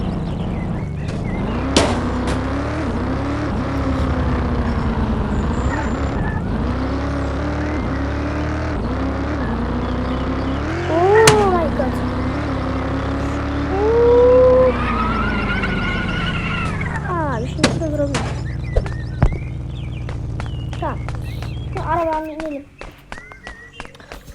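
Video game car driving in Dude Theft Wars, a steady engine drone that rises and falls with speed, with brief siren-like tones passing over it before it cuts off near the end; someone talks over most of it.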